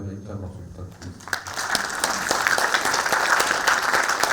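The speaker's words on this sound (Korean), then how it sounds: "여러분 다시 한번 입장 박수 부탁드립니다" An audience at a seminar breaks into applause after a moment of talk, with many hands clapping in a dense, sustained patter that builds and holds.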